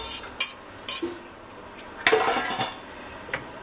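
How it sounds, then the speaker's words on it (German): Chopped, cleaned vegetables tumble into a casserole baking dish, giving a few separate clattering bursts and light scraping as they are spread around, close by with no talk. "dann schütte ich mein geputztes Gemüse drüber und verteile das so ein bisschen in der Auflaufform"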